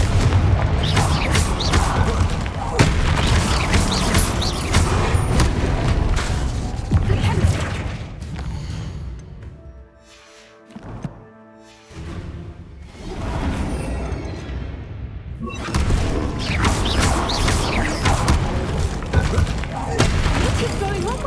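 Confringo fire spells exploding in Hogwarts Legacy combat, a long stretch of dense booming blasts and crackling impacts, loud and close, dropping away briefly mid-clip before the barrage resumes.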